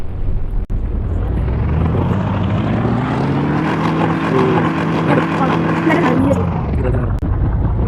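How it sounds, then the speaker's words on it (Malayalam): A steady, loud helicopter engine drone with whirring rotor noise from an Indian bike driving video game, continuous throughout and fairly close, with no voices. "ഈ ഹെലികോപ്റ്റർ കയറി അടുത്ത സ്ഥലത്തോട്ട് പോകാം."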